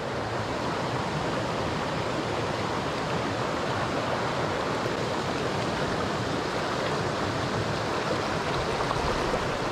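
Muddy, fast-flowing creek rushing steadily close by during trout fishing, a loud, unbroken wash of water with no voices.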